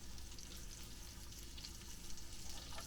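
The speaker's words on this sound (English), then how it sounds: "you're just cooking your eggs. and finishing the hash browns off" Eggs, hash browns and sausage sizzle in a pan together, a steady dense frying crackle that stays close and even throughout, with no talking.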